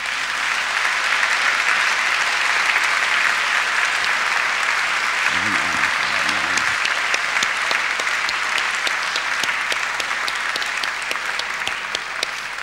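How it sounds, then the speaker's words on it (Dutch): A church congregation breaks into sustained, dense applause that fills the room steadily from start to finish, with a few voices faintly mixed into the clapping. "Geef een applaus aan de Heer."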